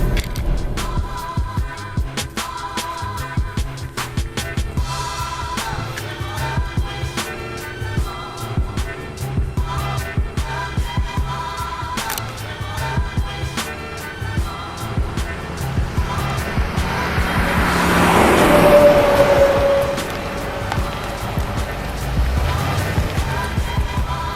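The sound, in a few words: Jeep Grand Cherokee SRT launch control acceleration ride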